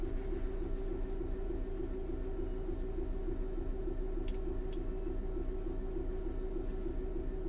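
Train running in Train Sim World 4, a steady, loud low rumble of rolling stock with a humming drive tone and brief high clicks, continuous throughout with no talk.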